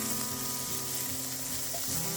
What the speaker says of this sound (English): Next, I'm going to add in the white onion and give those a nice little stir.